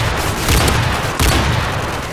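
A Predator missile strike in a first-person shooter game lands as a loud, rumbling explosion with a second booming hit about a second later, dense and close.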